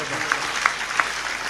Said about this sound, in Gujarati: તાળીઓના ગગડાથી વધાવો